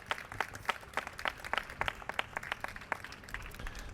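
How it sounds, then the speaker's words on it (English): An audience applauds the Mighty Shades of Ebony at an outdoor Louisville bike event: faint, scattered clapping, fairly distant, with individual hand claps standing out. "one last round of applause for the Mighty Shades of Ebony"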